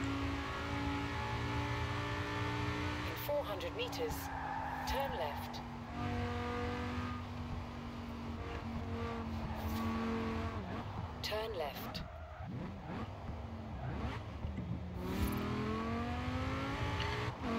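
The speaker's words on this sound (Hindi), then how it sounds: "ये कार एग्जॉस्ट के जो engine sound है exhaust sound है" Car engine and exhaust in the Forza Horizon 4 racing game, droning steadily and climbing through revs and gear changes, with tire squeal now and then. A voice talks over it.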